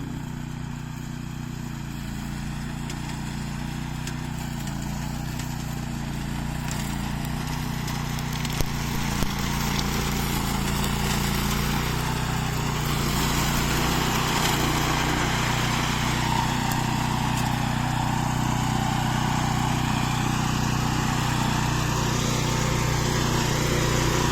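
A Bowin riding lawn mower cutting tall grass, its engine holding a loud, steady, close-up drone for the whole stretch with no pauses or talk.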